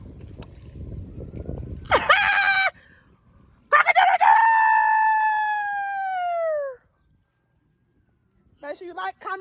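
Chicken calling in loud, drawn-out crow-like bursts, one short and one long, then a few softer clucks near the end, with someone talking and splashing water at the start.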